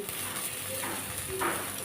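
Pathuri of dried chepa fish wrapped in Malabar spinach fries on low-medium heat in a pan, giving a steady, close sizzle with soft crackle throughout and a faint stir or scrape near the end.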